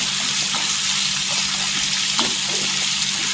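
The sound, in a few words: sliced onions frying in hot oil for egg curry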